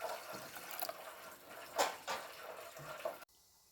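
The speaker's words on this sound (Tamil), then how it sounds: "1க்கு 2 தண்ணி ஊற்றி ஒரு அரை மணி நேரம் ஊற வச்சிடலாம்." Water splashes and trickles as it is poured over kodo millet to soak, with uneven gurgles and drips for a few seconds before cutting off abruptly.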